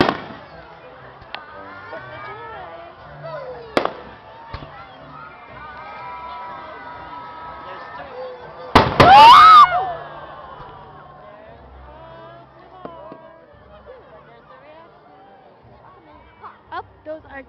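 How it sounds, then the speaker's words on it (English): Fourth of July fireworks display with a sharp burst near 4 seconds and a loud, crackling cluster of explosions around 9 seconds, heard over a steady crowd murmur and chatter. "I'm watching fireworks on the 1st of July, okay?"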